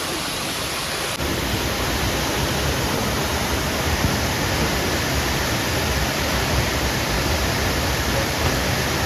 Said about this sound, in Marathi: किती वाढलाय, बाजूचे पाणी जोरात व्हायला लागलंय.